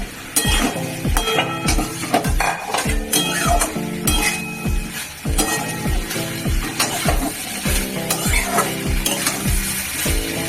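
Pointed gourd pieces sizzle and fry in a hot pan while a utensil stirs them, with steady sizzling under repeated scraping and clinking strokes close by.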